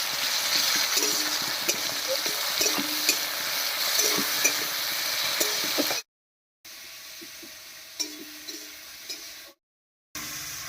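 Tomatoes sprinkled with salt are stirred in a pan, giving close, busy scraping and sizzling that runs continuously, broken twice by brief moments of silence.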